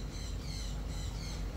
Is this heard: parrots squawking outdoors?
yes